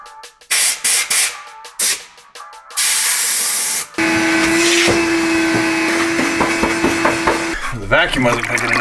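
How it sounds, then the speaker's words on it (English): Short sputtering hisses give way to a loud vacuum cleaner running steadily with a high whine, and people talk over it. "The vacuum wasn't picking it up"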